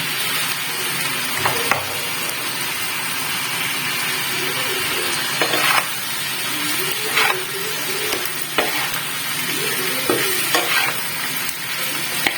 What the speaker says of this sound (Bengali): এবার আমি লাউটা মিক্স করে দেবো।